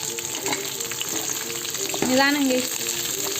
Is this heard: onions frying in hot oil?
yes